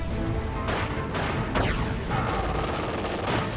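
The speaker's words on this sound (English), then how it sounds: "We are taking fire!" Gunfire in the World War II strategy game Company of Heroes 2: dense, continuous bursts of rifle and machine-gun fire with a few heavier blasts mixed in, loud and sustained throughout the battle.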